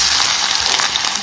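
Mustard seeds and onions frying in a tablespoon of hot oil, a steady bright crackling sizzle that fills the short moment at close range with no talk over it.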